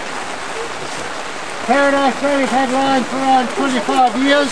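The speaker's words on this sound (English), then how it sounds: "Sorry about the rain." Steady rain falls throughout at an outdoor lion-feeding area at Paradise Valley in Rotorua, a constant hiss that continues under a voice as he begins talking partway through.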